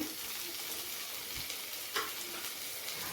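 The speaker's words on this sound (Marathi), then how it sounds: "आणि टोमॅटो पण व्यवस्थित फ्राय करून घेऊया कांदा आणि टोमॅटो" Tomatoes frying with onion and ginger-garlic paste in a pan for a dry prawn masala, giving a steady soft sizzle with a few faint stirring scrapes, quiet and close, with no voices.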